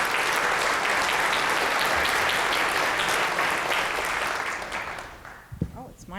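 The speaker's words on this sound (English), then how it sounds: "you should give a big applaud to the president" An audience at a congressional town hall gives the president loud, sustained applause. The applause fades near the end, and a voice begins speaking.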